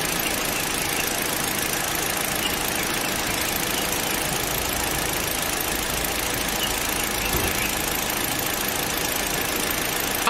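Car engine holds a steady, fairly even running drone with a faint hiss on top during a battery test, one brief low bump near the end, and no voices.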